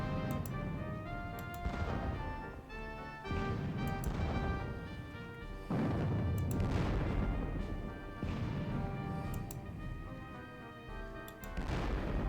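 Artillery fire from a Battle of Borodino strategy game: a string of loud, sharp booms and crashes at irregular intervals, each followed by a rumbling decay, with no talking.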